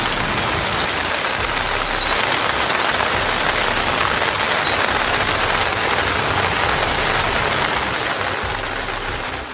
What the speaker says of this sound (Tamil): குடியாத்தம், காட்பாடி பகுதிகளில் பரவலாக மழை பெய்தது